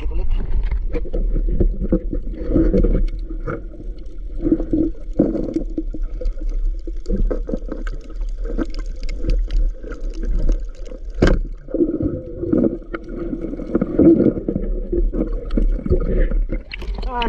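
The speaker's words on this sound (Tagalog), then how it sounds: "Grabe lakas ang alon." Strong waves slap and surge against a small boat at sea in rough, stormy weather, with heavy low rumbling water impacts and gurgling while someone talks loudly throughout.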